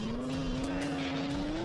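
Engine of a game car fitted with spiked wheels, a steady rising whine that climbs slowly in pitch, close and alone, with a light tire-skid edge.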